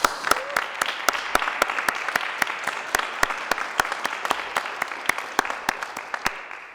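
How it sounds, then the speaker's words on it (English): Hand claps beat out a steady, evenly spaced rhythm over a soft wash of clapping, applause for the honourees of an awards event, holding at a constant pace and level throughout. "give them a round of applause."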